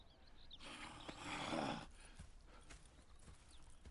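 Horse hooves clip-clop in a steady gait with a brief whinny in Red Dead Redemption 2, the sound swelling louder midway then settling back into a quieter, continuous trot.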